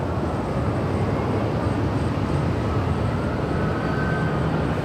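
A Southwest airliner taking off from runway 24 left at LAX, a loud, steady broadband engine roar with a faint rising whine, with no voices heard.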